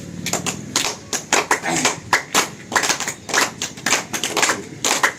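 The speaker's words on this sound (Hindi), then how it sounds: "ताली नहीं रुकना चाहिए, ताली बजते रहना चाहिए।" A live audience at a Guru Purnima yoga gathering claps steadily, sharp hand claps in an uneven rhythm that swell and ease, with a voice talking over the clapping.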